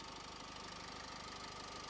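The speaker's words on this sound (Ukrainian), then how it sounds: "Мотор працює чітко, рівненько" A Renault Koleos 2.0 dCi diesel engine idles at close range, a steady even rumble with a faint regular knock and no change in pace.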